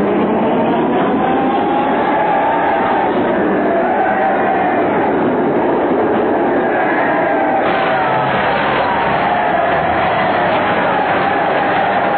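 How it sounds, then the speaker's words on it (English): A tram rumbles and clatters past on its rails in a muffled old recording, with a murmuring crowd in the background throughout. "there goes the last tram"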